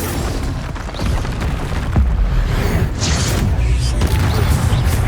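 A Confringo spell bursts in Hogwarts Legacy, giving deep booming blasts and rumbling impacts over a dense game soundscape, loud and close, with a few sharper cracks along the way.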